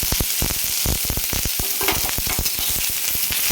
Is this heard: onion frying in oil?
yes